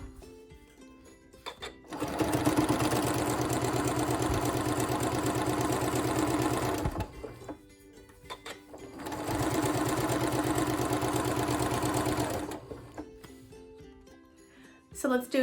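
A sewing machine stitching scrap pieces for an improv quilt, whirring steadily in two long runs of about five and three seconds, close and loud, with quiet pauses between them and no talking.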